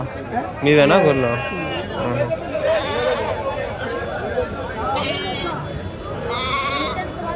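Sheep bleat repeatedly amid a busy crowd at a Tuesday sheep market in Kadiri, with people chattering nearby in a noisy, crowded setting.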